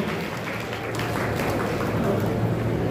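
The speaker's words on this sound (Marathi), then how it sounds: "जोरदार टाळ्या झाल्या पाहिजेत वैष्णवी मानकापे।" Audience applauding a student at an award ceremony, a thick, sustained wash of many hands clapping at once, steady and fairly loud.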